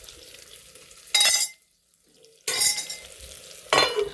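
Bitter gourd and onion fry in oil, coming through as three loud, close bursts of sizzling and stirring with quiet gaps between them.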